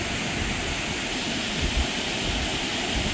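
Havasupai's 50-foot falls rushes as a steady, dense roar of falling water, close and constant with no voices.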